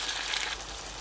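Chopped tomatoes fry in a pan of bitter gourd and meat masala, giving a brief, steady, close hiss of sizzling oil with no voices.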